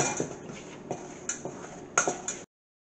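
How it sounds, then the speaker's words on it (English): A utensil clinks and scrapes against a bowl while cream cheese danish ingredients are mixed, several irregular taps close by and fairly quiet, then stopping abruptly. "And I'm just going to mix this up."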